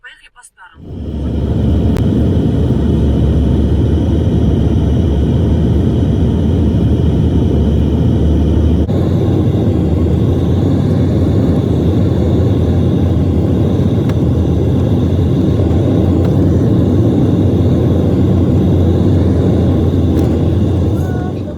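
Steady low rumble of aircraft engines at an airfield, loud and continuous, with people talking over it.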